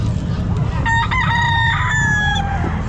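A stag rooster about eight months old crows once, close and loud, its drawn-out harmonic call rising then trailing off over a constant low background rumble.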